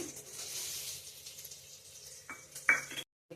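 White sesame seeds sizzle in ghee in a pan while being prepared for dry fruit laddu, a soft crackling hiss with light stirring scrapes and a couple of sharp utensil clinks near the end, no talking.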